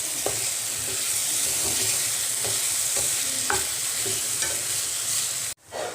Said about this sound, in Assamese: এতিয়া এইখিনি মই ভালকৈ মিক্স কৰি ল'ম